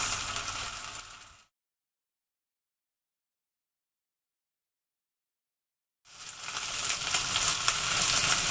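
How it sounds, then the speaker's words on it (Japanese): Steady, crackling sizzle of chicken breast frying in a hot pan, cut off for several seconds of silence, then returning louder and denser. "そしてジュージューという音がしてきたら"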